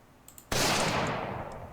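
A single loud gunshot from a hunting rifle in Project Zomboid cracks close by after brief quiet, then rings and decays for about a second.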